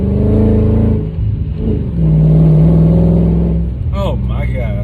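Supercharged Mercedes CL55 widebody with long tube headers and no catalytic converters revving hard, a deep, loud engine roar rising and swelling in pitch, heard up close from inside the car, with voices faintly mixed in.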